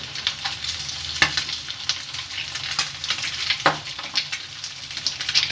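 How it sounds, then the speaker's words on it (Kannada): Egg-dipped pieces frying in hot oil in a pan, a steady close sizzle with occasional crackles and scraping stirs, no talk over it. "ಇದನ್ನ 2 ನಿಮಿಷ ಇದೇ ರೀತಿ ಫ್ರೈ ಮಾಡ್ಕೋಬೇಕು ನೀವು"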